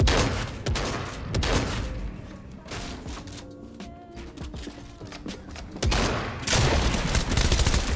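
Rapid bursts of gunfire from the video game Fortnite, loud and dense, with a short quieter lull in the middle before heavy shooting resumes.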